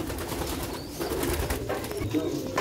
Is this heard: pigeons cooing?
yes